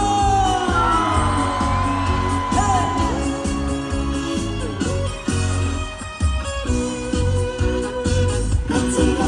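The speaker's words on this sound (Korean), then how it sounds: "박수와 함성" A festival crowd at the Jangsu Hanwoo and Apple Festival cheers and whoops loudly while applause rolls on throughout, with shouts rising above a steady roar and stage music underneath.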